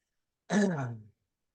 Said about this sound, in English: We're sitting up here and I have a coughing fit.